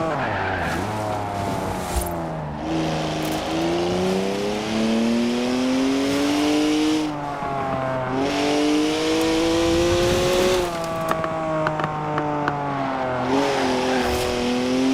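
A BMW in Forza Horizon 4 races and drifts, with its engine revving up and down through gear changes and tires squealing, loud and continuous with no talk.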